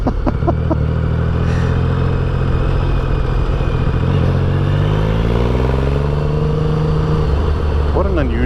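A Triumph Rocket III motorcycle engine runs steadily and loud throughout, its pitch sweeping down then climbing again as it revs, with a voice talking over it.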